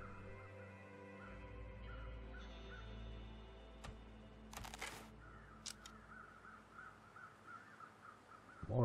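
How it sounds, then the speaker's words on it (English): In the survival game The Long Dark, crows caw over misty, cold wilderness, with several scattered caws rising above a low, steady ambient drone and occasional sharp game sounds. "But the crows are back."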